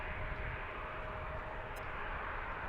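An airliner taking off from Washington National (DCA) heading south, a steady broad jet roar that stays loud and constant throughout, with no talk.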